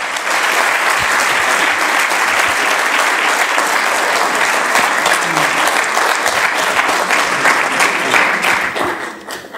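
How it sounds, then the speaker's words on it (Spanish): Loud, sustained applause from a large crowd fills a tribute ceremony honouring Malvinas war veterans, steady and dense throughout before easing slightly at the end. "El aplauso para Esteban Viligrela Madrid."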